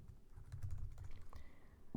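Quiet, quick clicks of typing on a computer keyboard while Java code is entered, close up and with no talking.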